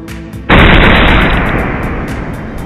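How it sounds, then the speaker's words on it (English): A homemade potato cannon blowing apart in one sudden, very loud blast that rings out into a long, harsh, slowly fading roar. "The potato cannon explodes, I'm sure deafening him for days, if not causing permanent hearing damage."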